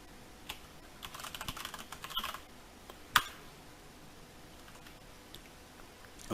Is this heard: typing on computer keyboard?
yes